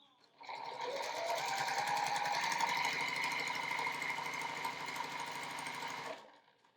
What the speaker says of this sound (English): go ahead and sew along your second line there